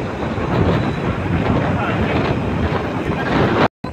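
Strong, steady, cold wind at Bagasbas beach buffeting the microphone with a constant roar, broken by a brief dropout near the end.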